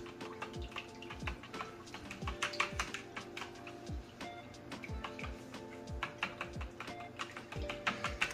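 Buttermilk being whisked with a whisk, a quick run of sharp ticking and clicking strokes against the bowl, close and fairly faint, in an uneven rhythm.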